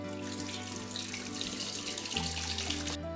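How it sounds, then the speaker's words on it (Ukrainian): Water pours steadily from jars of steamed cherry tomatoes being drained for marinating, a continuous splashing trickle into a sink that cuts off abruptly near the end. "через 20 хвилин помидори пропарилися, зливаємо з них воду"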